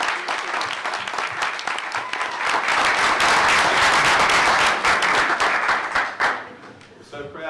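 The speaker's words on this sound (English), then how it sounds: "Let's give Christian a round of applause" An audience at a school board meeting bursts into applause for a student science fair winner, swelling to a loud peak with scattered cheers before trailing off as a voice returns.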